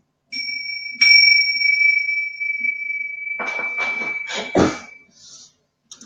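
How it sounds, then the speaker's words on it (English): A small bell struck once, ringing with a clear sustained tone that slowly fades, followed by a few soft scuffs and rustles close by before quiet. "Just going to do a little bell just to shift into this next phase"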